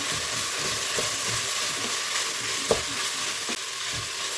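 Vegetables, including chopped bell pepper, sizzle steadily in a hot pan while a utensil stirs and scrapes through them, with a few sharper clicks.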